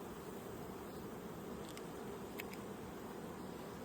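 Steady drone of honeybees buzzing around an open hive during a frame-by-frame inspection of a healthy colony, a faint continuous hum with a few brief higher whines of individual bees flying close by.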